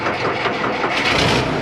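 A truck nicknamed Private Parts cranks and its engine catches, a loud close low rumble with uneven churning pulses throughout a short burst.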